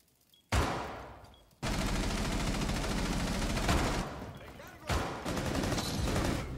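Bursts of rapid automatic gunfire in the Rainbow Six Siege video game, loud sustained volleys broken by brief pauses, with a player's voice also audible.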